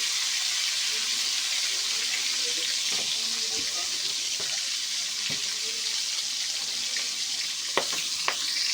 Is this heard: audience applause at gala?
no